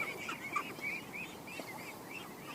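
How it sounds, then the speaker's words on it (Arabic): A flock of young ducks foraging on harvest leftovers in an Indonesian rice field keeps up a steady, close chorus of overlapping quacks and calls, with no one talking. "هذايا سرب جديد نتاع بط، معناتها مازالوا صغار"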